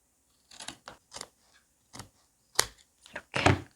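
Scissors cut through fabric along a marked line with a ruler held underneath, making about eight crisp snips in irregular bursts with short silent gaps, close and clear.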